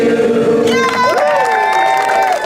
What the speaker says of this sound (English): His teammates cheering him on as he marked his 100th birthday